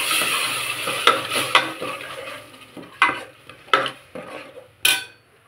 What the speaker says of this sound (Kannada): ನೋಡಿ, ಇವಾಗ ಚೆನ್ನಾಗಿ ಇದನ್ನು ಫ್ರೈ ಮಾಡಬೇಕು ಫ್ರೆಂಡ್ಸ್